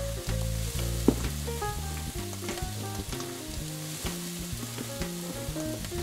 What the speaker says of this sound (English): We're going to check on our sausages again, making sure that it all cooks together evenly.